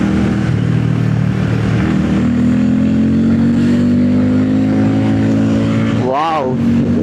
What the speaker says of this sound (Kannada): ನಿಜ ಈ ಸೌಂಡ್ ಇದೆ ಅಲ್ಲ, ಸಖತ್ ಸಾಲಿಡ್ ಆಗಿ ಬಾಸಿ ಆಗಿದೆ ಸೌಂಡ್ ಇನ್ ಪರ್ಸನ್ ಕೇಳೋದಕ್ಕೆ